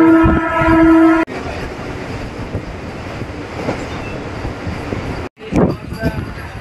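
Narasapur to Guntur passenger train departing Bhimavaram Town station: a horn blast opens, then a loud, steady rolling rumble with wheel clatter, briefly cut before resuming.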